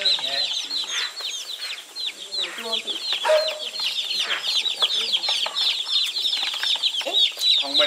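Chickens cluck busily in a rural Vietnamese village setting, many overlapping short clucks and chirps forming a continuous, moderately close chatter with no voices over them.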